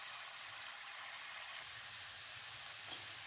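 Sofrito frying in a pan for Cuban ropa vieja, giving a steady, even sizzle that stays close and moderately quiet throughout, with no voices.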